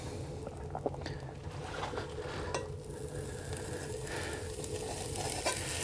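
A Papa Murphy's pizza sizzles and crackles steadily in a pan on a Camp Chef stove, with occasional clicks and scrapes, fairly quiet and continuous.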